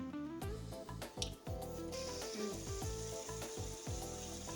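Spicy chicken curry cooking in a pan over a medium flame, a steady quiet sizzle with soft bubbling and popping beneath a music track.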